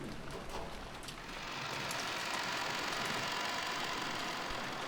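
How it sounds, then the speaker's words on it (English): A heavy rain downpour from the visual novel Umineko, a steady broadband hiss that swells slightly after the first second and then holds loud and constant, with no other sounds. "As we opened the front door, the downpour was quite terrific."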